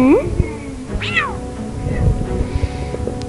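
A cat meows in the Lego Harry Potter video game, a short rising call followed by a bright swooping meow, heard over game music and effects.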